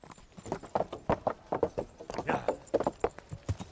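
Horse hooves clip-clopping at a walk in the video game Kingdom Come: Deliverance, a series of close, distinct knocking steps in an uneven rhythm, with no talk over them.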